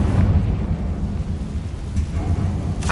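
Confringo blasting spell going off in the video game Hogwarts Legacy, a loud rumbling explosion with heavy low boom sustained throughout, plus a sharp crackling burst near the end.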